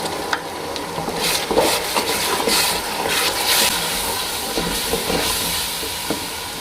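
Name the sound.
tomato paste sizzling in the pan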